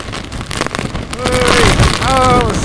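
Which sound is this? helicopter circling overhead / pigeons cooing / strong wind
strong wind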